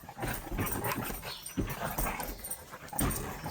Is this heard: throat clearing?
no